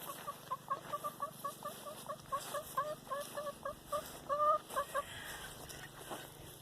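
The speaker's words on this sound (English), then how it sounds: "We got one baby chicken that got out." Chickens cluck in a quick, steady series of short calls outdoors, fairly close and moderately loud, with no talk over them.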